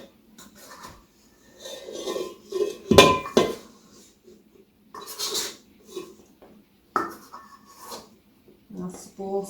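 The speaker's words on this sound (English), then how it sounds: "Scrape all that lovely dough out" A plastic scraper scrapes sticky bread dough from a mixing bowl in a home kitchen, giving intermittent rubbing scrapes and knocks against the bowl, mixed with talking nearby.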